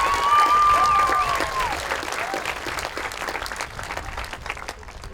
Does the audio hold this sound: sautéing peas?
no